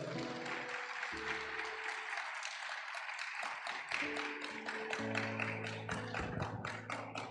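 Congregation applauding during a Spanish-language church service honoring parents, a steady dense wash of clapping throughout, with sustained keyboard or organ chords playing underneath.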